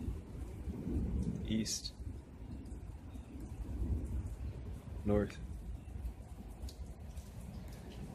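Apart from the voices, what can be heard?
thunderstorm with thunder and rain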